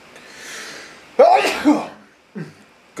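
A single sharp sneeze bursts out close by after a soft breathy intake, followed by a quieter sniff or short vocal sound.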